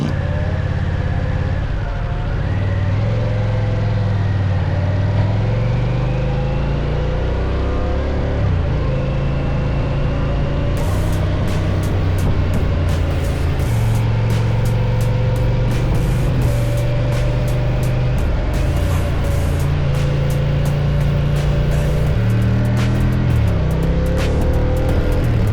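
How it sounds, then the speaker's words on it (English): A motorcycle rides the twisting Tail of the Dragon road, its engine droning steadily throughout and rising and falling in pitch through the curves, with wind buffeting a bike-mounted camera. "So I put a camera on her bike and we're gonna go ride the tail of the dragon"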